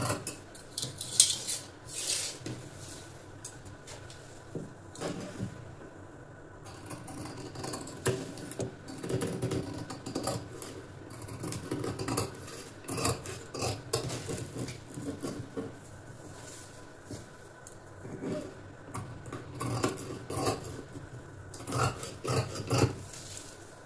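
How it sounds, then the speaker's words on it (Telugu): Scissors cut blouse cloth along chalk-marked lines, producing repeated crisp snipping and fabric rustling in an irregular rhythm, close and moderately loud, with no talking. "ఇప్పుడు వచ్చేసి మార్క్ చేసిన విధంగానే పై వైపు నుంచి బ్లౌజ్ అయితే కట్ చేస్తున్నా"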